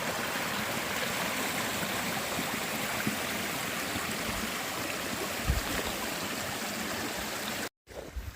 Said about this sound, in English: I got a little bit of a stream crossing, not too much here, but a pretty little stream